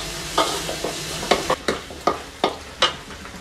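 Pieces of fish dropped into hot curry oil in a pan, giving a series of sharp sizzling bursts roughly every half second, each flaring then fading, close up with no voices.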